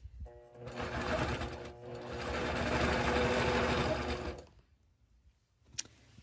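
A sewing machine stitches a quilt in two steady, humming runs separated by a brief pause, with a close, even mechanical whir that then stops, followed by a single small click.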